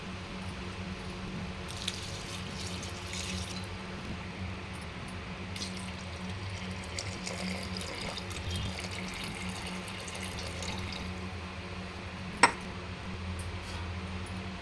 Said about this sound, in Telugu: నేను వాటర్ వేసుకుంటానండి